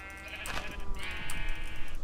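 Sheep in the Minecraft video game bleat repeatedly with wavering, nasal calls over a low game background hum, fairly close and loud, with no talk.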